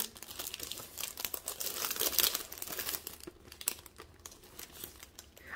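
Gift wrapping paper crinkles and rustles as a present is unwrapped, a busy close-up crackling that runs the whole stretch with brief tearing bursts and no talk.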